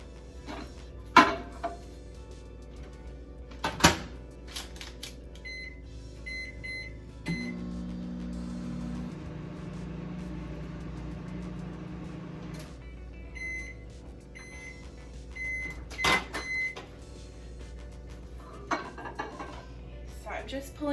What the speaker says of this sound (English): we're just gonna pop it in the microwave for 1 minute